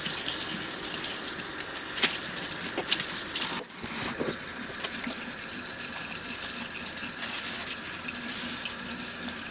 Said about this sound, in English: I'm not just going to rinse them, I'm going to wash them